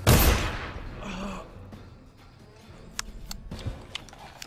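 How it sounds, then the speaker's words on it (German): A single loud gunshot blast from the stealth action game Dishonored bursts out and decays over about a second, followed by quieter clicks and small impacts. "das war jetzt so quasi ein Schuss mit ins Gesicht"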